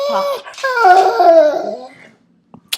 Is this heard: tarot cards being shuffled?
no